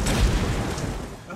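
Gunfire and booming blasts in the video game The Saboteur, a continuous dense barrage with a heavy low thump early on, loud and close throughout.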